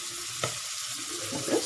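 Onion frying in a pan for a baby's beetroot rice, a steady soft sizzle with a brief clink of a utensil against the pan and a little stirring scrape near the end.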